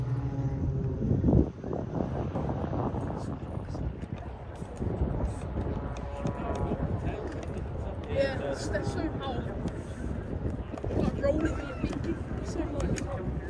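Warbird aircraft at the Sywell Airshow accelerating down the runway and lifting off, its engine roar steady and moderately distant with wind buffeting the microphone, while a commentator talks over it throughout.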